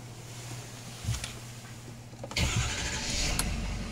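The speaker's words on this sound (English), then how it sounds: "The F-350 comes to life with push button start." A 2017 Ford F-350 Super Duty pickup starts by push button: a short crank, then the engine catches midway and settles into a steady, close idle, heard alone.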